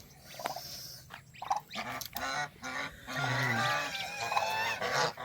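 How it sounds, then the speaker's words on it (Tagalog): Geese honk repeatedly up close, a series of nasal calls of varying length, some overlapping, with a few short chirps mixed in. "Ito na po yung gansa natin guys"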